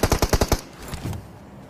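Automatic gunfire in the battle royale game BGMI: a rapid burst of about six sharp, evenly spaced shots, followed by a few fainter, more distant pops.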